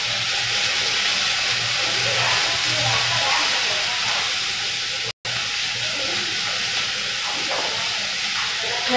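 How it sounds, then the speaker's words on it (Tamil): Chopped onions sautéing in a pan for a steam-cooked vada curry give a steady, even hiss throughout, broken only by a brief cutout midway. "கட் பண்ணி வச்சிருக்க வெங்காயம் போட்டுடுறேன். அதை நல்லா வதக்கிட்டு"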